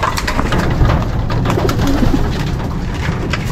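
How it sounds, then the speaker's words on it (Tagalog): Pigeons coo close by in soft, overlapping low calls over a constant rustling background, with no talking. "Ito na yung mga kalapate."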